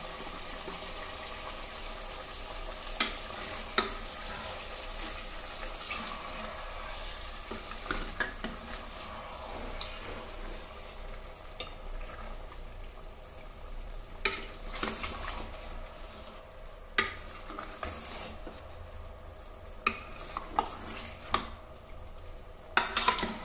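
Turmeric powder being stirred and fried into mutton curry in a pan: a soft continuous sizzle with repeated scraping stir strokes, close up and moderately quiet, no talking.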